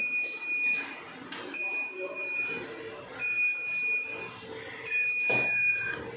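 Alarm aboard a passenger ferry, MV Lite Ferry, sounding in repeated long electronic buzzing tones separated by short gaps, while people talk nearby over the drone.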